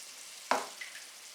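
Spaghetti bolognese sauce being stirred in a pan, with one sharp scrape of the spoon followed by faint bubbling and sizzle at close range.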